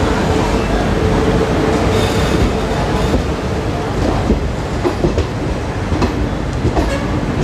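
Garib Rath Express passenger train in green livery running along the rails, a steady loud rumble of wagons with faint rhythmic clacks and occasional wheel squeal throughout.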